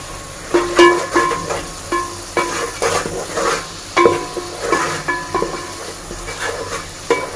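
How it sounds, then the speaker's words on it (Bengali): Spices with turmeric powder sautéed and stirred in a hot pan, a continuous sizzle broken by rhythmic scraping strokes of a spoon against the metal, close and fairly loud. "এবার মশলাগুলো আমি ভালোভাবে কষিয়ে নিচ্ছি"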